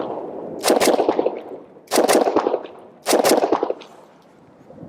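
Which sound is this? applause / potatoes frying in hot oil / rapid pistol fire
rapid pistol fire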